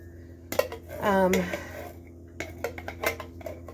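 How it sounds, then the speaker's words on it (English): A whole can of tomatoes added to a pot of lentil soup, with metallic clanks of the can and a spoon against the pot, soft sliding pours and scrapes, and a voice talking briefly partway through. "I'm going to put the whole can in there because I like tomatoes"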